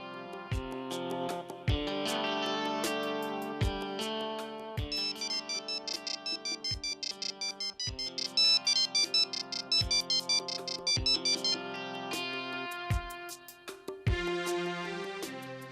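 A mobile phone ringtone plays alone in a melodic electronic pattern, with a repeating bass note under bright chiming tones. It rings loud and close throughout.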